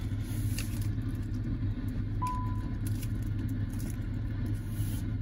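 A JAC JS8 SUV's 1.5-litre turbo engine idles with a steady, low rumbling hum that stays even throughout, heard close by with no other sounds.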